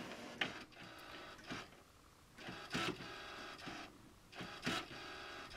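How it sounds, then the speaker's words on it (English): Canon Pixma inkjet printer printing decals: repeated whirring passes of the print head sweeping across, each a short mechanical burst with clicks, separated by brief quieter gaps, heard close and fairly faint. "today we are using the Canon Pixma printer"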